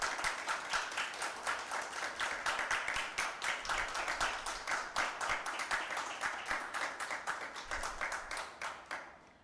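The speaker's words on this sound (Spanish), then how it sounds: "Un aplauso, por favor." A small gathering at a heritage magazine presentation applauds, with distinct individual claps forming a quick rhythmic patter that is fairly quiet, steady for several seconds, then trailing off at the end.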